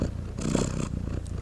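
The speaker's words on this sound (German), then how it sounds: "Ah, Katzenschnurren." A cat purring close up, a steady low rhythmic rumble lasting the whole short moment, with no voices.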